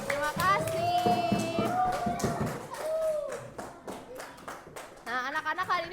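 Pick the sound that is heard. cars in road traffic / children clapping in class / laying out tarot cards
children clapping in class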